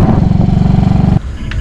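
A motorcycle engine runs loud and close with a fast, steady throbbing pulse, then cuts off abruptly, leaving quieter background noise.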